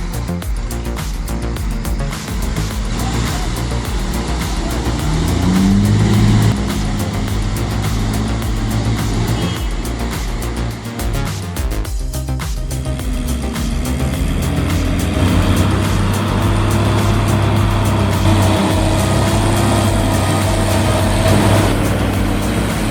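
An 18-ton, 160 HP forestry machine hauls 4 tons of timber with its wheels sunk in mud, giving a loud, steady engine drone that holds throughout with little change.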